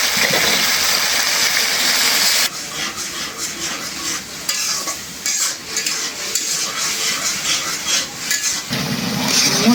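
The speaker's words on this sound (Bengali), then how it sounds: "একটু পানি দেই মসুর ডালটা কষানোর জন্য।" Water goes into red lentils frying with spices in a pan for a jute-leaf dal; a loud hiss and sizzle rises, then settles into steady bubbling and stirring clinks close by.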